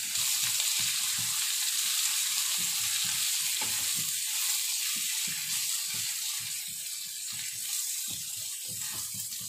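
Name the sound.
potatoes frying with green chilies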